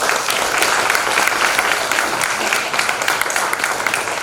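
A dance department audience at a thanksgiving service applauds steadily, dense continuous clapping filling the room at full volume for several seconds without pause.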